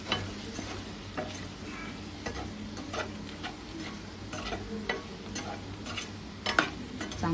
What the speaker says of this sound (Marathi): सांबार मसाला 2 चमचे घातल्यानंतर आपण चांगलं परतून घेऊ परत त्याला